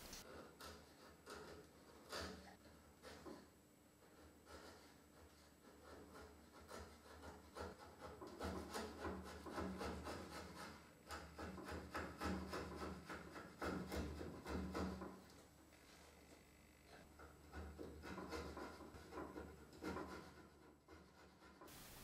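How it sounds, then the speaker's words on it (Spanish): Sandpaper rasps against the corner of a wooden fence board in short, quiet back-and-forth strokes, close and soft, with no talking. "Lijo un poco la esquina superior"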